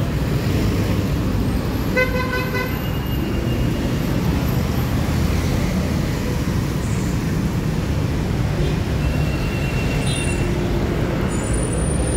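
Busy street traffic in BGC Taguig, a constant wash of engine and road noise with a short car horn toot early on and a couple of faint higher beeps later, no talk.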